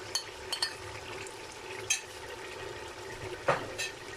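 Crushed browned onions stirred into frying mutton korma in a pan, a few soft scraping stirs and clinks over a faint steady sizzle, close and fairly quiet.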